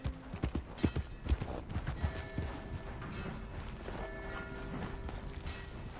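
Horse hooves clip-clop in a quick, uneven run in Red Dead Redemption II, loud at first and then settling under a steady hum and faint mechanical tones.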